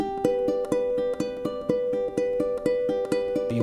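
Ukulele strumming a chord progression starting from G, with bright chords in a steady repeated rhythm, close and clear with no voice over it.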